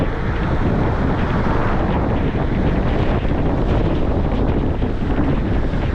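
Strong wind roars steadily across the microphone while riding an e-bike through Prospect Park on a sunny day, a loud continuous rumble with no letup.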